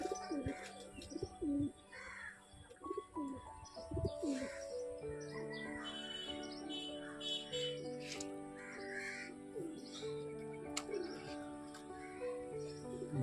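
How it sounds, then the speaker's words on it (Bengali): A young pigeon at a loft coos softly among cawing crows and chirping birds, a busy layered mix of near and distant calls that carries on throughout. "এই যে পায়রাটা দেখছো না বাচ্চা পায়রা আজকে সাড়ে চার ঘন্টা উড়েছে"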